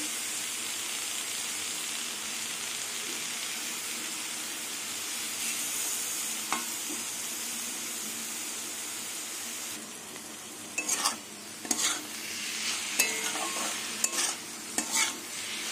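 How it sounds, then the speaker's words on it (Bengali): Steady low sizzle of red amaranth greens frying in a pan, with scraping stirs and clinks of a utensil growing busier toward the end; no talking. "এবার আস্তে আস্তে শাক ভাজাটা হবে।"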